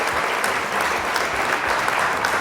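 A Minecraft Bedrock applause sound effect plays as a steady, even wash of many hands clapping. It stays fairly loud and constant from start to finish, with no voices.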